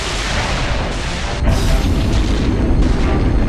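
Heavy weapons fire and a massive explosion in a sci-fi space battle, a loud sustained roar and rumble that swells into a deeper, denser blast halfway through, with no voices.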